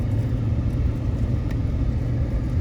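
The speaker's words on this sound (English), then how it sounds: "Just driving through the bush," A Ram 1500 pickup drives off road through Australian bush, its engine a steady, fairly close low rumble with constant road and vehicle noise and no talk.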